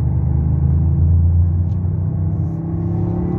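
A Toyota GR Yaris 1.6T GR-Four rally car drives with a loud, steady, deep engine rumble that is heard from inside or very close and holds an even drone for the whole stretch, with no voice.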